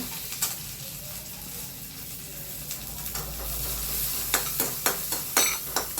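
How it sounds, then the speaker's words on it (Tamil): Finely chopped garlic frying in sesame oil in a pan gives a steady close sizzle. Sharp stirring scrapes and taps come through more often toward the end, and no one speaks. "பொடியாக அரிஞ்ச பத்து பூண்டுங்க இந்த நல்லெண்ணெயில் வறுத்துக்கிறேங்க"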